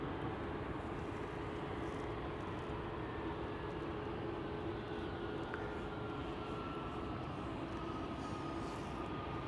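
An Air Baltic airliner departs from runway 24 at Amsterdam Schiphol, a steady broad distant engine roar that holds level throughout with no other sounds on top.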